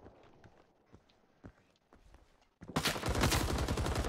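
Gunfire in the Vietnam War shooter Rising Storm 2: Vietnam, starting with faint scattered distant shots, then erupting into a loud close burst of rapid automatic fire.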